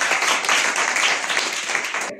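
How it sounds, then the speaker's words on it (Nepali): A church congregation claps in praise during a worship service, a dense, loud, steady wash of many hands that cuts off abruptly at the end. "ताली बजाएर प्रशंसा गर्नु।"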